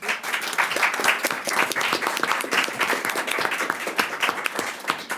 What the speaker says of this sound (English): Please join me in a round of applause for our incredible LRC directors.